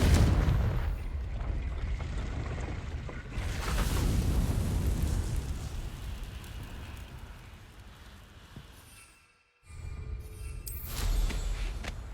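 A Confringo spell explodes in the video game Hogwarts Legacy, a heavy rumbling blast swelling and then fading into a crackling, rain-like wash before a brief cut of silence and another burst.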